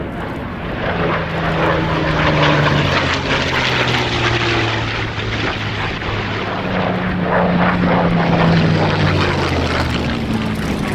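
A Bristol Blenheim propeller plane roars past during a knife-edge pass at an air display, a sustained, loud drone, its engine pitch shifting as it sweeps by.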